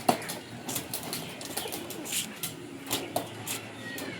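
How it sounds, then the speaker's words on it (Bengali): Scattered pigeon coos and soft wing flutters from released pigeons over a steady background hiss, with several brief bursts spread through the clip and no voices. "তার পায়রাটাকে ছেড়ে দেখাচ্ছি, দেখুন পায়রার কোয়ালিটি দেখুন"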